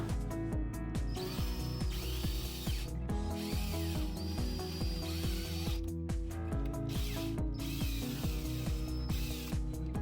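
A power drill bores an access hole through the wall of an RV slide-out, giving repeated whining bursts of rising and falling motor pitch with brief pauses between, fairly quiet and with no voices.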